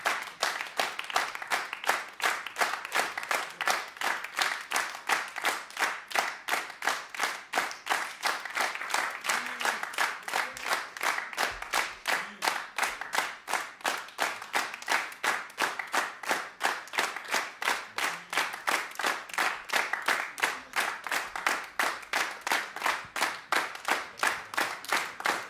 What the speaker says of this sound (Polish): Siedmiu wspaniałych. Wielkie brawa.